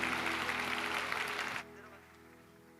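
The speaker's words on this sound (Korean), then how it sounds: "우리 다시 한번 감사의 축하의 박수 드립니다" A church congregation at a Christmas service gives a dense round of applause, fairly loud and filling the room, which stops abruptly after about a second and a half, leaving a quiet hum.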